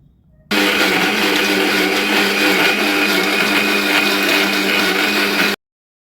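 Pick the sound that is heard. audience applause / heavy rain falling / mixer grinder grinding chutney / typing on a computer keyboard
mixer grinder grinding chutney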